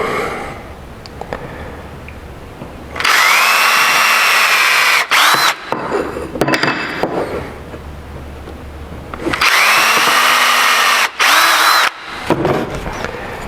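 A power drill whirs loudly in two sustained bursts, revving up and down as it bores into material, with brief stops between runs.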